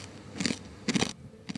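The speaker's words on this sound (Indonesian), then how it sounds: "kuenya benar-benar renyah, tidak keras sama sekali" A crunchy homemade Lebaran cookie, crisp, savory and spicy, is bitten and chewed up close, giving two loud crackling crunches followed by a shorter third bite.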